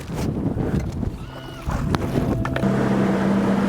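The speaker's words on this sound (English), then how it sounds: "When you're taking waves over the front, you know it's not good." Waves break over the bow of a small fishing boat in rough water, with rushing splashes and wind buffeting the microphone, plus a low engine drone that steadies near the end.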